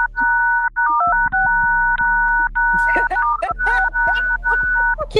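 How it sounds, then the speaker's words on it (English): Telephone dialing tones beep in a rapid series of steady paired-tone presses, loud and close, with a speaking voice in the background. "Y'all hear that phone?"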